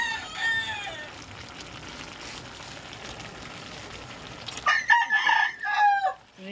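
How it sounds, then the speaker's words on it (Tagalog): A rooster crows near the start and again more loudly toward the end, with a faint murmur of background activity between. "Manok po yan."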